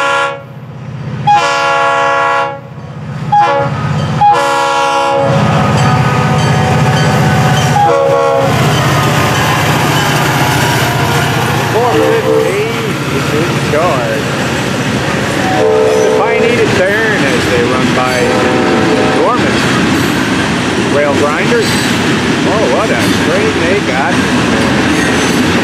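An FEC train rumbles past loudly with a long blaring horn blast near the start, followed by continuous rolling rail noise and clattering wheels.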